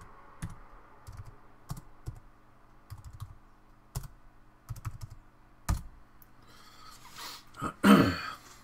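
Computer keyboard typing in irregular short bursts, close and moderately loud, with a rustle and brief breathy noise near the end.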